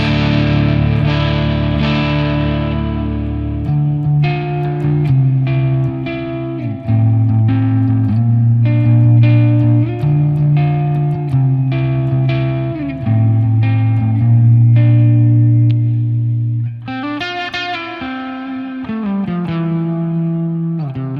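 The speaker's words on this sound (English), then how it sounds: "an example of a longer reverb, which is called cathedral" Electric guitar phrases ringing out with a long, bright, spacious cathedral reverb tail, like a large hall, played alone and steady in loudness.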